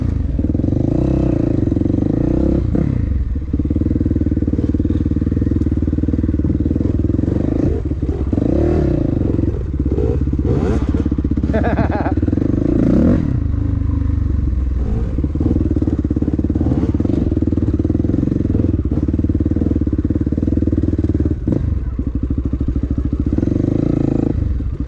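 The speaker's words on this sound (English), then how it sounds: "Good bike." Dirt bike ridden up wet hills through pine woods: a loud, continuous engine drone with revving swells, clattering and thumps, close and unbroken throughout.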